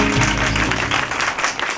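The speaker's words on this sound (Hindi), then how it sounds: "जोर से तालियां।" A crowd at a Dussehra celebration claps to welcome the arriving chief guest and his family, a short burst of applause over a sustained low musical drone.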